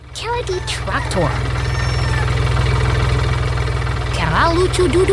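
A green farm tractor idles with a steady, low, throbbing engine drone that runs throughout, while a voice talks over it near the start and end.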